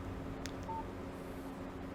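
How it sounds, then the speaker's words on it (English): A single short electronic beep from a phone's text message alert in the Alan Wake video game, brief and fairly soft over a steady low background hum. "Text message from Barry"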